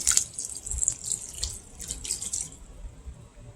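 Two cups of water are poured into a bourbon glaze, a continuous splashing, hissing stream into liquid lasting a few seconds, close and clear before tapering off.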